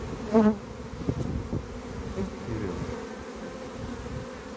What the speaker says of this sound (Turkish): Bunlar zaten havalanabilen arılar.